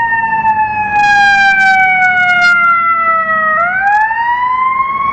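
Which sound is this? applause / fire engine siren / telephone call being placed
fire engine siren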